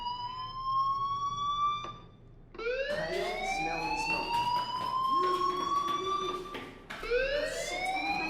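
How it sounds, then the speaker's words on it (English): A fire alarm rings in the video game Life Is Strange, its bright, rising electronic wail repeating in loud cycles with short gaps, close and alone without talk. "do you hear that fire alarm?"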